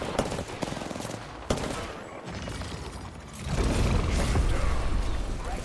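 Bursts of weapon fire and mechanical clatter in an Apex Legends ranked match, moderately loud, ending in a steady rushing roar; no talk over it.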